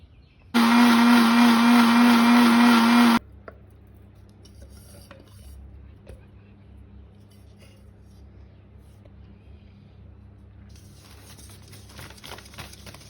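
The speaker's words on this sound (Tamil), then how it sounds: "இதையும் சேர்த்து அரைக்க போகிறோம் வெந்தயம் சின்ன சீரகம் பட்டை கருவாப்பட்டை இதுவும் சேர்த்து அரைக்க போகிறோம்" An electric mixer grinder whirs loudly while grinding fenugreek, cumin and cinnamon bark, a steady high-pitched roar lasting about two and a half seconds before cutting off, followed by quiet kitchen rustling and faint clinks.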